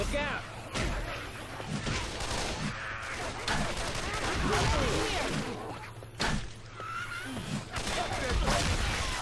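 Gunshots in Left 4 Dead 2 during the Dark Carnival campaign, near and steady: repeated shots and thuds over a busy game mix of chaotic crowd noise, with a player talking over them.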